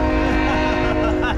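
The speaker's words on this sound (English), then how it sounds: "Yeah, there's a train, isn't there?" A train passes close by with a steady, droning horn-like tone and a rolling rumble, while voices talk over it.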